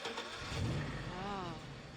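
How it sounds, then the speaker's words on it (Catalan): An Alfa Romeo car engine starts and revs, a low rumbling roar that swells briefly then holds over steady background noise, moderately faint and heard without talk. "Faig rugir el motor."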